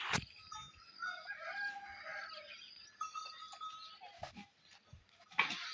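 Free-range village chickens cluck and call over a busy farmyard background, with a rooster's crow rising among them and a few sharp knocks.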